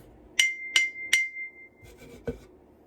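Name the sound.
striking a drinking glass partly filled with water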